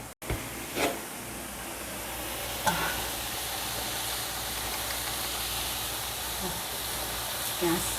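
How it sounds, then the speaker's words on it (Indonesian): Pork stir-fried in a pan sizzles and hisses steadily and loudly close by, with brief clatters from stirring and no talk. "Ini ditumis dhisik ya karena masih merah-merah"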